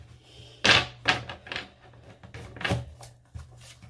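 Tarot cards are shuffled in a few quick riffling bursts, soft papery rustles and taps spaced about half a second apart, close and quiet, with a brief spoken word.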